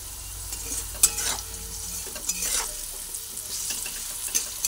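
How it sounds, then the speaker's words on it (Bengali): Potato pieces frying in hot oil with salt scattered over them, heard as a continuous close sizzle with periodic stirring scrapes and spatula knocks against the pan. "একটু ভেজে নিচ্ছি, তারপর আমি এর মধ্যে নুনটাও ছড়িয়ে দিলাম।"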